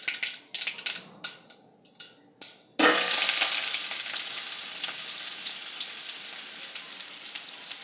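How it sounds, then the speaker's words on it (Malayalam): Onions drop into hot oil that already holds popped mustard seeds. A few scattered taps come first, then a sudden loud, steady sizzle fills the rest, close up. "കടുക് പൊട്ടി കഴിയുമ്പോൾ നമുക്ക് ഉള്ളി ഇടണം"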